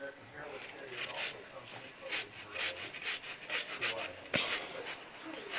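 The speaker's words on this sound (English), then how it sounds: "you want to take the skin of the orange and rub it against the grater" Orange skin rubs against a grater in rhythmic rasping strokes, with a faint repeated scratch close by and quiet breathing audible during the zesting for cranberry sauce.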